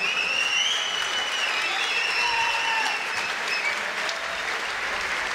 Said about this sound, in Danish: skal vi lige have bifald op i ringen til de to kæmpere